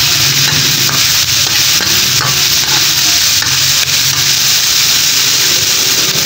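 Aromatics and alamang shrimp paste sauté in a pan with a loud, continuous sizzle, broken by repeated scraping strokes of a spatula stirring the mixture.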